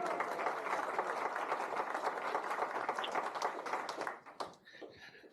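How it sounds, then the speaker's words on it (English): A lecture audience claps for Martin Carthy in a steady, moderately distant round of applause that thins out and fades near the end, leaving a few scattered claps. "Round of applause for Martin Carthy."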